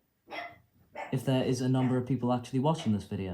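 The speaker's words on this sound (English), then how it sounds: "Sorry about the dogs in the background," Dogs bark in the background behind a man's steady, continuous speech, their yaps faint and partly masked by the voice throughout.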